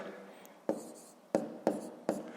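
Pen strokes writing numbers by hand on paper during a column multiplication, heard as four sharp taps and scratches spaced unevenly over a soft background, close and fairly quiet.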